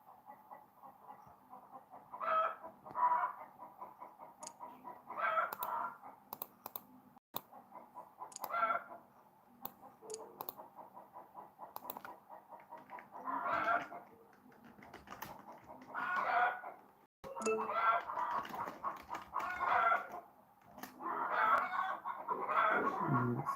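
A flock of chickens clucks and squawks in repeated bursts, with a rooster crowing among them, loud and close over a quiet background.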